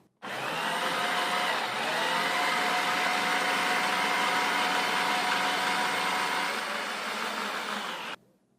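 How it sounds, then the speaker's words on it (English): An electric spiralizer machine runs continuously for about eight seconds, a steady loud motor whir that starts and stops abruptly, with no talking. "you're going to use light pressure when you turn the machine on, and then push the food through this spiralizing cutting disc."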